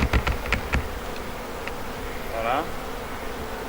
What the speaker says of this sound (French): Les abeilles vont à l'intérieur, logiquement. Elles vont prendre possession de la ruche